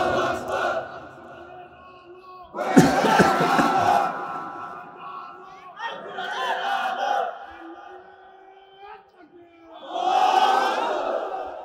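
Crowd at an Islamic sermon chanting the takbir, loud massed shouts in several bursts separated by pauses, with a preacher's amplified voice between them.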